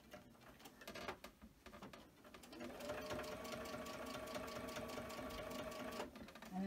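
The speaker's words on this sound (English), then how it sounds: "And I'm just going to slowly start sewing." A sewing machine stitches quilt binding in a quiet room, starting slowly with a few spaced stitches and then settling into a steady, fast, even run. It stops near the end.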